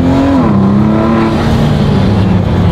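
A Ford GT's twin-turbo V6 drones loudly and steadily from inside the cabin, its pitch rising and falling smoothly through a sustained rev with no break.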